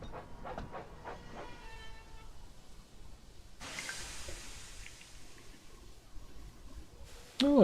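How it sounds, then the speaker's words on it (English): A train runs in a Thomas train simulator video game, with a steady rumbling roll, a burst of steam hiss midway and a rising whistle-like tone at the very end, heard alone at moderate level. "there goes Emily with a train"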